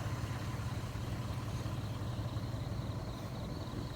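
A tractor engine idles with a steady low, constant chugging rumble throughout, unchanging and moderately loud, outdoors in the early morning in Warin Chamrap, Ubon Ratchathani, Thailand.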